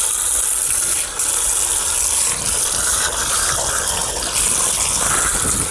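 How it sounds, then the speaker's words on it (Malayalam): Water gushes steadily from a household tap, a loud continuous rush that stays close and unbroken, with no voices. "മോനെ വെള്ളം പോകുന്നു."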